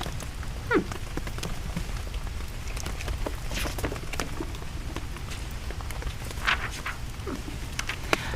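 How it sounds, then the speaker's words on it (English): Steady rain falling outside, a soft continuous patter with a few scattered sharper drips, heard at a moderate distance with no voices. "while it's raining outside"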